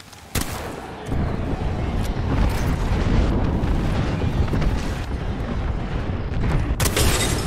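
A dense, continuous roar of airstrike explosions in a video game, loud and close, rumbling steadily for several seconds after a sharp opening blast, with a few louder bursts toward the end.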